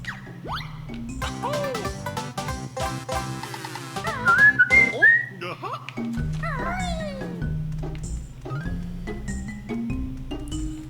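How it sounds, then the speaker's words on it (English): A short bright chime rings out as a Jiggy is collected in the video game Banjo-Kazooie, rising briefly above steady background game music and character chatter sounds. "Oh, it's the cute little Jiggy noise."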